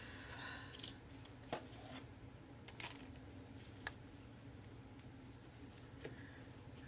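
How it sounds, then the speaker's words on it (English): Scissors snip at a cloth-work table, giving a handful of sharp, faint clicks and cuts spaced over several seconds against a low steady background hum. "Cut this off."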